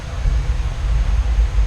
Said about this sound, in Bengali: ট্রেন ছুটে চলেছে সমুদ্রের পাশ দিয়ে।